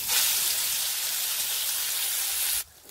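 Ground masala paste hits hot oil left over from frying kofta, giving a loud, continuous sizzle that holds steady for a few seconds and then drops away abruptly.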